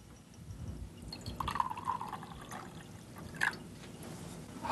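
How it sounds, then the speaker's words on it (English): Distilled water pouring into a glass beaker in a chemistry demonstration, a faint steady trickle with light splashing under a low room hum. "I'm going to put in there some distilled water, pure water"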